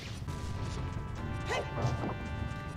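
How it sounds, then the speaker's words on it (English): A hammer smashing a boulder in the video game Ocarina of Time: a few sharp crunching impacts, the loudest near the middle, over a steady background music bed with no talking. "I'm smashing all the boulders on this trail just in case it does something."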